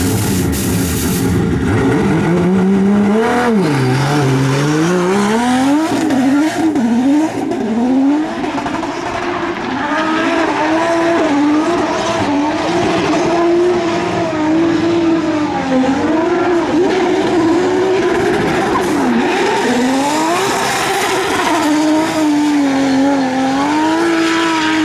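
A 1000-horsepower nitrous-fed 2JZ Nissan S15 drift car laps a track, its engine roaring loud and continuous with rising and falling revs while the tires squeal and skid almost without break.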